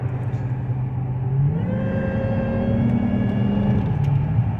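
A supercharged 2003 Infiniti Q45 Premium engine accelerates hard, a loud close rumble rising into a climbing whine with rising harmonics, then settling back slightly, with no talk over it.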